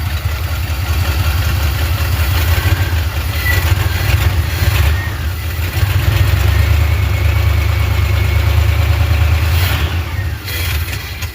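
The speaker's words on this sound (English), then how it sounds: "Wonder if we can give her any throttle." A 1977 Chevy Cheyenne K5 Blazer, restarted after more than 20 years off the road, idles with a low, rough engine rumble that briefly rises and falls as throttle is tried, steady and close.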